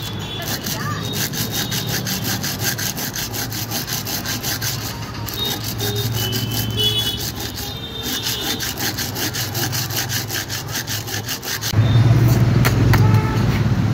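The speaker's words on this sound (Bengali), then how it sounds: "এই মুখটা ভালো করে সিরিজ পেপারে আমরা ঘষে নেমে যাবো" A carburetor face is rubbed flat on sandpaper in long, steady back-and-forth strokes, rasping close up and growing louder and coarser near the end.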